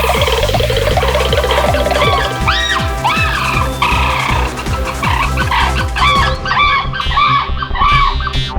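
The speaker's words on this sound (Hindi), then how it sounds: "मुर्गा, एक मुर्गा।" A cartoon rooster clucks and squawks in rapid, repeated bursts, loud and close, with its calls rising and falling in a busy, continuous run.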